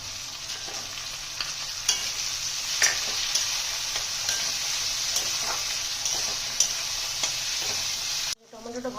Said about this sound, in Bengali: টমেটোটা ভাজা হচ্ছে